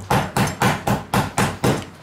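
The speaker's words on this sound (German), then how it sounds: "Und dann wird es noch verprügelt, wenn ich den Hammer finde." A meat mallet pounds a fillet roast flatter in seven quick, evenly spaced thuds, close and loud, with no talking.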